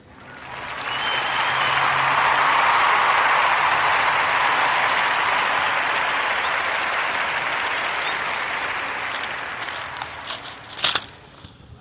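A live podcast audience claps for a guest's professional accomplishment, the applause swelling in quickly, staying full and even, then tapering off with a few final isolated claps.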